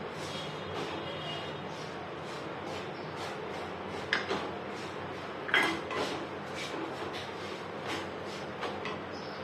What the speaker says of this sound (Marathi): अर्धा वाटी गुळ घेतलेला मी इथे गुळ चांगला परतवून घ्यायचा आहे पाच मिनिटासाठी